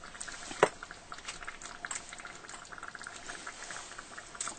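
A pot of spaghetti sauce with meatballs, mushrooms and black olives simmers on the stove, giving off a steady soft bubbling and popping with one sharper tap near the start.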